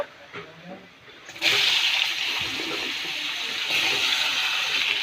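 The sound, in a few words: vegetable stalks poured into a pan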